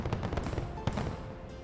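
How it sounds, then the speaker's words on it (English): A firework spell bursts in the fantasy video game Frog Fractions 2, giving a dense run of crackling, popping blasts with one sharper bang near the end, loud and close, with no talking. "Let's actually build another firework spell right away, and this time aim it towards that treasure chest over there."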